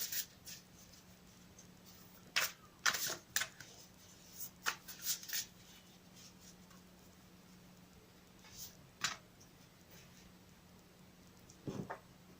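Sparse papery snaps and flicks of large oracle cards being handled and shuffled up close, in scattered clusters with quiet gaps between.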